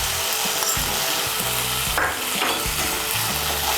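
Spice paste of chilli powder and coriander powder hits a hot pan and fries, a steady loud sizzle with scraping stirring strokes throughout, close and continuous with no talk.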